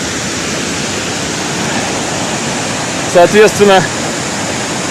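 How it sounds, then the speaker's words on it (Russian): The Kapuzbaşı waterfalls in Turkey give a steady, loud rush of falling water that fills the whole stretch, and someone speaks briefly over it near the end. "и водопады все в этом районе Купус-Баши"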